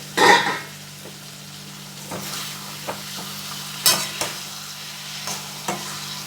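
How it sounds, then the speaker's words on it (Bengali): Fish and potato alu ghati sautéing in a pan, a soft steady sizzle under a series of scraping stirs and light clinks of a utensil against the pan, close by. "এবার ঢাকা দিয়ে আস্তে আস্তে কষিয়ে নেবো"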